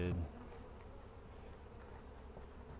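Honey bees buzz around an open hive in Kentucky during hive combining, a dense low hum of many insects that stays steady and moderately close after a brief louder thump at the start.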